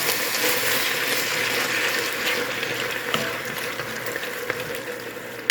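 A can of petite diced tomatoes goes into a cooking pot for chili beans, giving a steady wet, sloshing pour with faint scraping and bubbling, close and continuous, with no talking.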